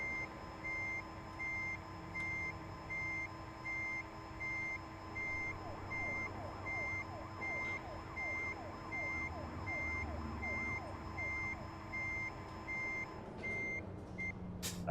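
Steady, evenly spaced reversing beeps from a PolyFir electric truck in American Truck Simulator, continuing loud and clear over a low engine-like hum and a warbling tone midway, ending abruptly near the close.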